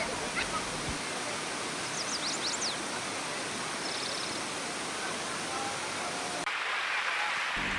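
A steady, broad roar of rushing water from Ketol waterfall in Indonesia, continuous and fairly loud, with faint bird chirps over it.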